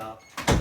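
An exterior door of a house swings shut with a single close thud near the end, during a combustion safety test walkthrough.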